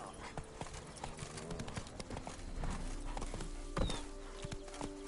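Roach the horse in Witcher 3 at dusk, hooves clip-clopping in a steady walking rhythm, fairly close, with a sharper thud near the end and a faint snort or whinny.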